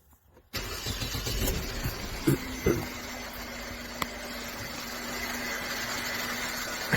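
A 2013 Mercedes-Benz C250 with a cylinder 2 misfire cranks and catches, then settles into a steady close idle with a few small clicks and bumps.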